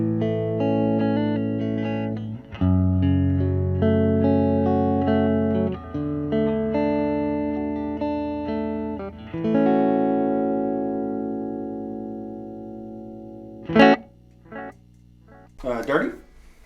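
Electric guitar through an amp, recorded with a Shure SM57 microphone, a distorted riff with sustained chords and notes, fairly loud and continuous, ending with a few sharp clicks and knocks.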